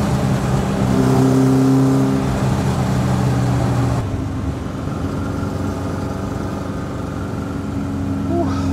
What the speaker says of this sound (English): it's so definitely a race engine, this. It really doesn't like it unless it's being revved